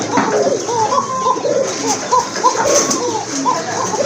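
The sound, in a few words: pigeon cooing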